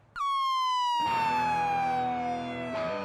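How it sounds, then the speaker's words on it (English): A loud electronic siren wails steadily, its pitch sliding slowly downward, with rumbling traffic noise joining underneath. "The distant sound of sirens and the occasional shout of rescue workers filled the air."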